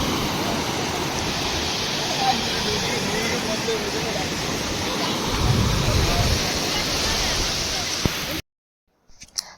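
Sea waves washing onto Palolem beach in South Goa make a steady, close roar of surf with wind noise on the microphone, and the sound cuts off abruptly near the end.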